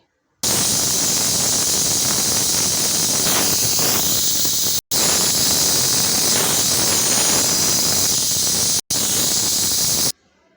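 A pressure cooker of varan chakolya, wheat dough pieces simmering in dal, lets off a loud, steady jet of hissing steam that runs continuously for several seconds, broken by two brief cutoffs.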